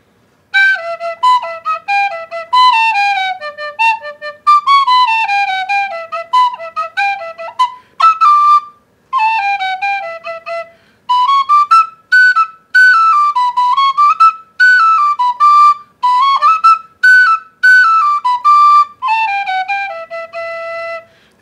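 Irish tin whistle playing the Swallowtail Jig, a bright, clear melody of quick running notes in a lilting jig rhythm with brief pauses between phrases, close and alone.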